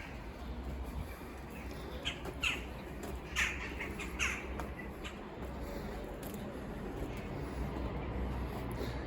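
Crows caw from a garden setting, several harsh calls scattered through the middle of the stretch over steady outdoor background noise, moderately distant and not very loud.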